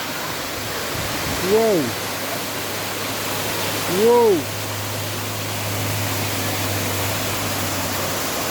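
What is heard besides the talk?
mountain waterfall rushing water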